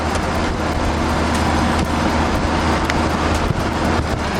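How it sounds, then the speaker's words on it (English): An old Land Rover 80 inch crawls through London evening traffic, its loud, steady engine and road rumble filling the cab continuously, with no speech. "the Land Rover isn't at its best in traffic"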